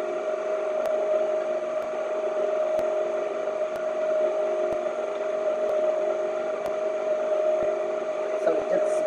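A new electric stand mixer beats thick eggnog fruit bread batter, giving a steady, even motor whir with a constant tonal hum and faint regular ticks, and a voice is briefly heard.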